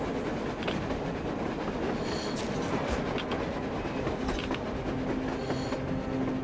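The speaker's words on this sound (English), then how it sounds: "A train! A damn train on the surface!" A train passes on the surface in the video game Metro Exodus, making a continuous rolling rumble with rail clatter and faint metallic squeals throughout, with no voices.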